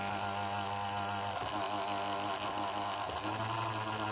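A universal motor runs on DC voltage after its bearing frees up, making a steady electrical hum with a buzzing whine close by and brief dips in pitch as its speed changes, with no talk.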